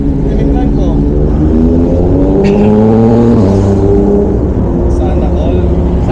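A 400cc motorbike engine revs with a rising, climbing pitch and holds loud and close throughout, while people talk over it.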